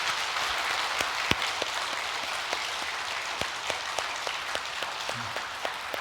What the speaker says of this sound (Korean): 우리 교회가 떠나갈 만큼 우리 행복하게 한번 박수 한번 하도록 하겠습니다